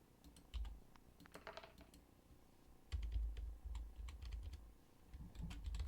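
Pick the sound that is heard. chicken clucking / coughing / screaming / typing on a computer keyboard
typing on a computer keyboard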